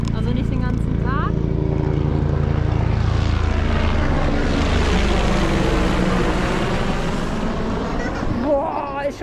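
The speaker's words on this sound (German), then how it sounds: "der vierte Hubschrauber" A helicopter passes overhead on a seaside stay in Turkey, its rotor and engine drone loud and steady, swelling and shifting in pitch as it flies by, with people talking beneath it.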